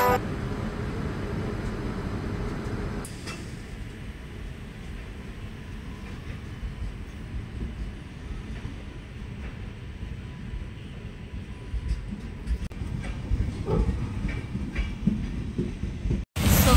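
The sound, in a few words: Mumbai local train running, ladies compartment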